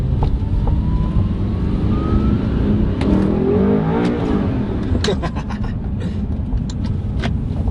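An Audi R8 sports car drives along, its loud, continuous engine drone filling the whole stretch, rising slightly as it accelerates and accompanied by road and wind noise, with voices faint in the mix.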